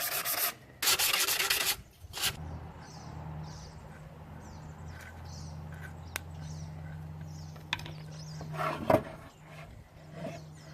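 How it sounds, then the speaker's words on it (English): Rough hand sanding along the edges of a painted wooden board for a child's book box: a couple of loud, rapid scratchy bursts up front, then quieter intermittent rubbing over a low steady hum. "I'm just going to roughly sand the edges a little bit"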